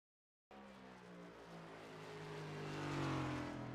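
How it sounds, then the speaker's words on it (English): A Chevy race car engine running at Watkins Glen during a sim race, its steady drone rising and building in loudness after a silent start, with no talking. "Can hear some race car noises because it's now on."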